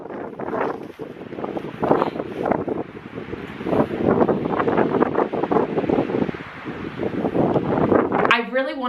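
Wind roars across the microphone on a winter beach in Sopot, Poland, at minus seven degrees. Breaking waves sit beneath it, and the wash stays loud and continuous throughout.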